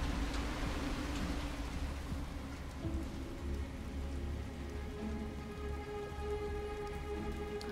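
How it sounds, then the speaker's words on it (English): Steady rain falls in the video game Detroit: Become Human, a soft, even patter and wash of drops on hard surfaces. It is fairly quiet, with a faint low rumble beneath and no speech. "Damn, it's still raining."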